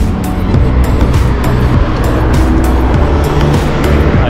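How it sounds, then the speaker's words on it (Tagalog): A car comes up from behind a cyclist on a road loop in Doha, its engine and tire noise loud and steady and close by, mixed with rushing wind. "Guys, sasakyan sa likod."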